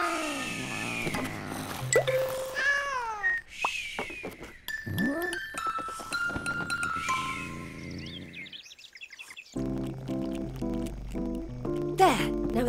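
A cartoon cat from the Simon animated series gives a few high, sliding meows amid bright chimes, clinks and a playful musical score, all close and clear with no talk over it.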